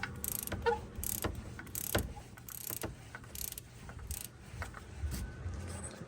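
A ratchet wrench clicks repeatedly while loosening a 17 mm bolt on the bell housing of an 8th-generation Honda Civic Si during a clutch job, with faint metallic clinks and no talking.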